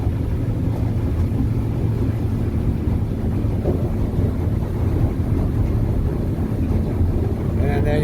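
A 2020 Northriver 23 boat runs across the water, its engine a loud, steady low rumble mixed with hull and water rush and buffeting wind noise, continuous throughout with no break.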